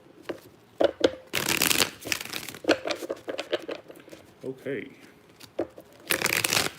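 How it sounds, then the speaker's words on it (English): Freshly saged tarot cards are shuffled in several loud, close riffling bursts with pauses between them, and someone speaks briefly. "All right, 3 more shuffles."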